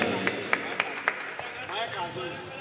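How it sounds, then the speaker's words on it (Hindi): At an All India mushaira and kavi sammelan, a few sharp, spaced handclaps ring out, with faint crowd noise and clapping under a speaking voice toward the end. "एक मरतबा ज़ोरदार तालियां बजा करके मुझे इजाज़त दीजिए।"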